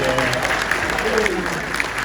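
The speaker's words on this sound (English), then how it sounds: "What about a big welcome, big round of applause for our team person." Brief audience applause at a caravan park, a short, even patter of clapping with faint voices mixed in.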